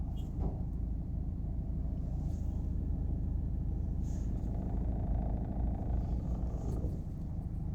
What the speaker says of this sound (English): It's one of those sports cars.